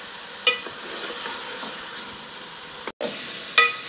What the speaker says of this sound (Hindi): ये देखें कोफ्ते भी भून लिए मैंने